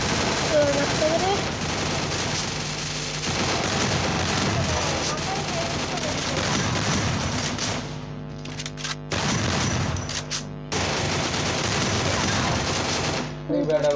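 Gunfire from the Free Fire video game crackles in dense, rapid bursts with brief gaps, loud and continuous, with a voice talking over it.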